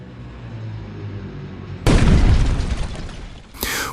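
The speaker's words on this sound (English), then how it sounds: "Moments later, it slammed into the side of the command vehicle and detonated." A munition strikes and detonates on an S-300 air-defence command vehicle, producing a sudden heavy explosive boom that rolls and decays over about two seconds, then a second sharp burst, loud over a low background rumble.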